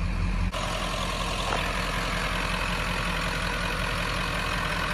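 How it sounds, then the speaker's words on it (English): A car engine passes close by on a road, a steady broadband motor rumble that holds at an even level throughout. "we got a car coming"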